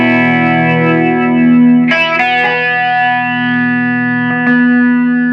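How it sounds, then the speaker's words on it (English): Electric guitar through a Fender Champion 20 modelling amp with a flanger effect, sustained chords swirling continuously with a couple of fresh strums partway through, loud and without speech. "You can add some flange."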